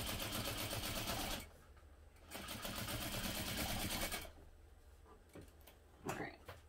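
A home sewing machine stitching a sew-along garment in two fast whirring bursts with rapid needle ticking, separated by quieter pauses and a few light clicks and handling sounds near the end.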